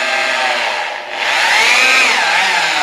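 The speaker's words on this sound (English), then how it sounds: "make sure you have a mixer that's designed for thin set, not drywall" A drill-driven paddle mixer whirs loudly through thin-set mortar, its pitch dipping briefly as the load bites before climbing back to a steady high whine, close and alone.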